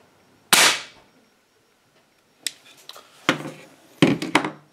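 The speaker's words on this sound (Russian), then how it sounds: "Стреляет пистолет достаточно громко." A Gamo P 900 air pistol fires one sharp, loud crack that fades quickly, followed after a pause by several quieter clicks and knocks of handling.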